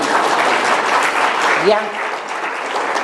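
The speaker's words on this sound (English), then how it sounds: "And again, please do applaud." Applause from an audience at the launch of The African Report on Child Wellbeing, a dense, steady wash of clapping that continues throughout, briefly joined by a voice.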